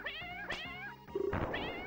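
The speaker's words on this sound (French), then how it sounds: "des chats, hein, tout ce qu'il y a de plus félin et qui braillent comme pas possible" Cats yowl and caterwaul loudly and insistently in the bathroom level of an Addams Family video game, overlapping drawn-out wailing meows with a higher squealing cry near the end.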